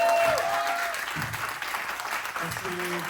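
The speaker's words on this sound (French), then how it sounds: "un tonnerre d'applaudissements pour Alice" An audience at a Bollywood birthday party in Paris bursts into a steady round of applause and clapping, with someone speaking over it.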